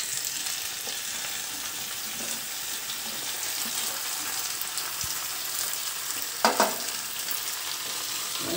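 Brinjal and tomato pieces fry in oil with chili powder, a continuous close hiss broken by occasional soft stirring scrapes and one sharper clatter of a spoon against the pan.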